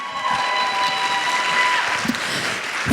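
Applause from a gala audience sounds as a moderate, steady patter of many hands across the room, with a faint sustained tone running above it and a brief voice near the end.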